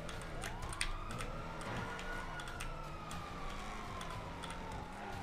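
A video game police siren wails in long rising and falling sweeps beneath constant engine drone and sharp clicks of keys or buttons, somewhat faint.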